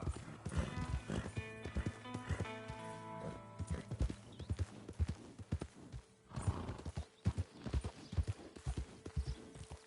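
A horse gallops in Red Dead Redemption II, its hooves drumming in quick, close bursts, joined by a clear whinny early on before the pounding picks up again.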